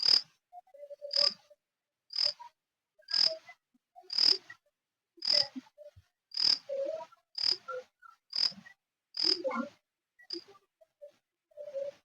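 A frog swallowed by a small snake in a kanakambaram flower garden gives about eleven evenly spaced, short, sharp croaks or chirps, one roughly every second, fairly close and alone.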